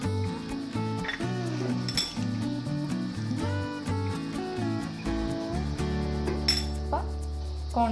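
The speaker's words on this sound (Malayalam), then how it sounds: "കോൺഫ്ലവറും ഇതായിട്ട് നല്ലപോലെ മിക്സ് ചെയ്യാം." Cornflour being stirred into a marinade in a bowl, with a few sharp clinks of a spoon against the bowl under steady background music.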